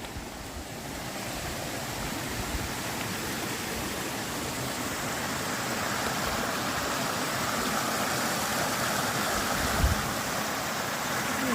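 Stony Brook rushes beneath a trail bridge in a steady, broad wash of flowing water that stays close and fairly loud, with no voices over it.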